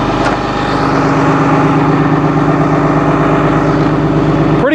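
A 2010 Blue Bird All American FE front-engine bus idles with a 6.7 engine, a loud, steady low rumble with an even pulsing throb heard up close.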